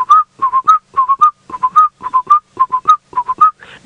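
A person whistles an imitation of a black-collared barbet call, heard on a morning safari drive: quick repeated phrases of two or three bright whistled notes, steady and close, with short gaps between groups and no talking.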